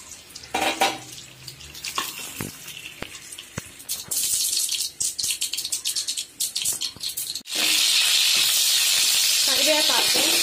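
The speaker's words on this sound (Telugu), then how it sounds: "పాన్ పెట్టుకొని ఆయిల్ వేసి పోపు గింజలు" Tempering seeds hit hot oil in a pan with scattered crackles and pops, building to a loud, sustained sizzle in the last few seconds, while a person talks over the earlier part.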